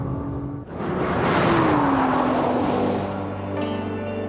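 A specially modified car drives along with a rising, loud engine drone that swells and holds steady, then eases off before picking up again.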